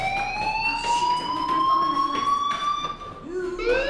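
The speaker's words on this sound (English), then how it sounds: "Hey, do you hear that fire alarm?" A fire alarm blares in the video game Life is Strange, a loud steady electronic tone that holds and rises slightly, with a voice briefly heard near the end.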